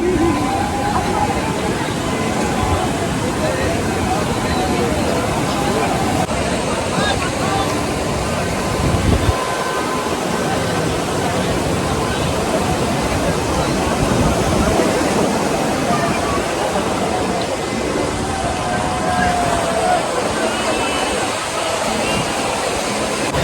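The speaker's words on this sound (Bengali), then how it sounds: "আজকে পানি অনেক উপরে এসে পড়ছে, আজকে সমুদ্র খুবই উত্তাল।" Rough surf roars continuously on the beach at Kuakata, Bangladesh, waves crashing high and churning with heavy wind noise buffeting the microphone throughout.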